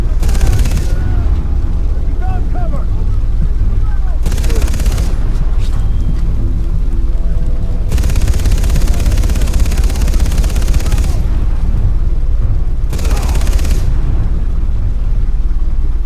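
Dense, continuous gunfire and explosive bursts from the video game Far Cry 3 run loud throughout. Several heavy blasts punctuate the steady firing.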